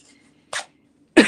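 Two short coughs from a nearby person, a quick one and then a louder, fuller one about half a second later, with near silence between them.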